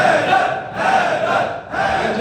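Crowd at a jashn religious gathering on Long Island, New York, chanting the slogan "Haidar" in loud, massed unison, rising in two or three swells with brief dips between.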